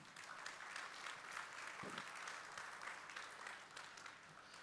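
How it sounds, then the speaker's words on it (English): A round of applause from a seated audience at a founders' talk event, a faint, dense and even wash of clapping heard from a distance. "One big round of applause once more, please"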